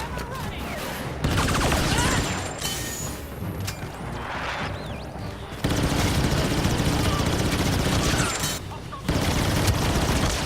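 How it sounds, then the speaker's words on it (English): Rapid bursts of CR2 assault rifle fire in the video game Star Wars Battlefront 2, loud automatic volleys broken by short pauses, with someone talking over the shooting. "This gun shoots green bullets and is the fastest shooting assault class weapon."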